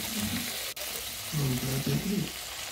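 Bamboo shoots with a little chili and a splash of water sizzle steadily in a large pan while being stirred, a continuous hiss with soft scraping pulses, close and fairly loud.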